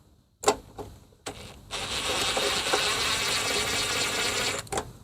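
A ratchet loosens 3/8 bolts holding a lawnmower carburetor, with two sharp metallic clicks followed by a long, steady, close rapid clicking that stops abruptly.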